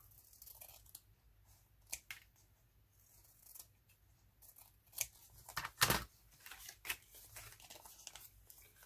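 Scissors cut through a sheet of 12 x 12 cardstock, quiet close snips and rustles in an irregular rhythm, with a louder crisp crunch near the middle.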